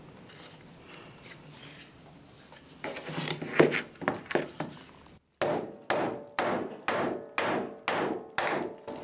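A hammer drives wire nails into wood, first in a quick irregular flurry of taps, then after a short pause in seven steady, evenly spaced strikes, close and moderately loud.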